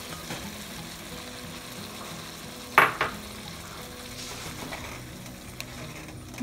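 Pineapple and diced tomatoes tipped into a hot pan for sweet and sour pompano, setting off a continuous frying sizzle with a sharp clatter as the food lands and a second smaller knock just after.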